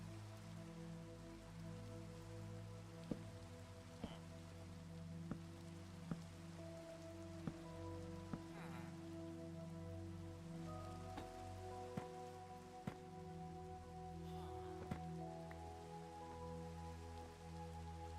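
Rain falls steadily in Minecraft, a continuous soft patter over a sustained hum of game music, with occasional sharp clicks scattered through.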